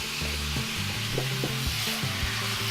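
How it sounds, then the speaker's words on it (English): A lot of onions sauté in hot olive oil in a cast iron pan, making a loud, continuous sizzle with scraping stirs and low clunks of a utensil against the pan. "Cast iron, hot olive oil. And a lot of onions."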